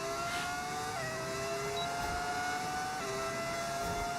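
Formula One race car engine in an F1 video game, a steady high-pitched whine held at constant revs, with brief gear-shift dips and no talk.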